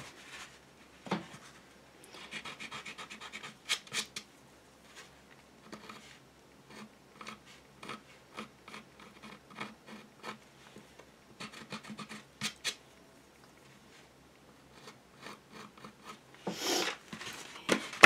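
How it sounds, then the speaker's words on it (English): Sandpaper rasps against a dried gourd in short, scratchy strokes, quiet and close, coming in bursts with pauses between them. "can always use some sandpaper to adjust it, too"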